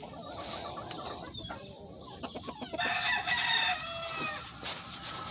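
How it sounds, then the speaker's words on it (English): Healthy gamefowl chickens kept for breeding crow and cluck outdoors, a rooster's long crow rising clearly over a steady background of several birds clucking nearby. "These chickens here are healthy, bud."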